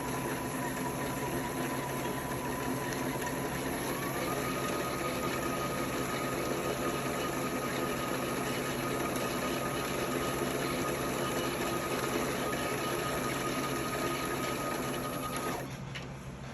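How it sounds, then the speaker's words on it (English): A sewing machine winds a bobbin with a steady mechanical whir and hum that shifts pitch slightly partway through, then stops abruptly near the end as the bobbin fills. "And the bobbin will slow down when it's done."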